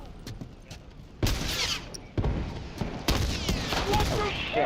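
Gunfire in The Last of Us multiplayer: several sharp bursts and reports stand out against a dense, noisy game soundscape, with people talking over it.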